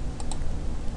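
Two quick mouse clicks while working in Autodesk Inventor 2015 CAD software, sharp and close, spaced about a tenth of a second apart over a steady low background hum, with no talking.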